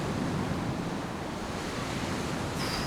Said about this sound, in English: you hear the waves crashing